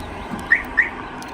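A 2017 Ram 2500's car alarm gives two quick, high chirps about a quarter second apart. They sound a bit distant against a low background hum.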